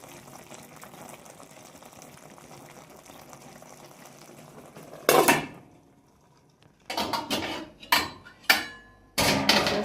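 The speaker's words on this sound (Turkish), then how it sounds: "Kaynıyor arkadaşlar." Steady low bubbling and simmering of cabbage-roll stew in a pot on a wood stove for several seconds, then loud clattering bursts of metal pots and utensils knocking together nearby.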